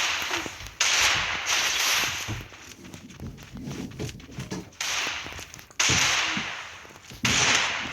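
Desert Eagle pistol shots in a video game ring out in sharp, loud bursts, four main cracks spaced unevenly, with busy game noise and footstep-like clatter between them.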